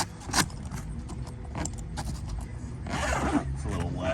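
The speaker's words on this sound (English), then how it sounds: "start by taking the Velcro off." Velcro being peeled off a soft top window on a 1999 Jeep Wrangler TJ, heard as a sharp rip followed by a few softer tearing and scraping sounds, fairly close in a quiet space.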